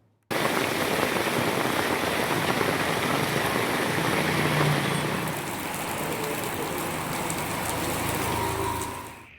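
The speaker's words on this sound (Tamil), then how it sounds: "தூத்துக்குடி மாவட்டம் மற்றும் மாநகர பகுதிகளில் இரவிலிருந்து தொடர்ந்து பலத்த மழை பெய்து வருகிறது." Heavy rain pours over Thoothukudi in Tamil Nadu as a dense, even hiss that stays loud and unbroken for several seconds before fading at the end, with no voices.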